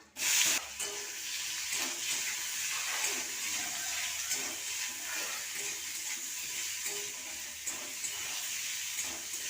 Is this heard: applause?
no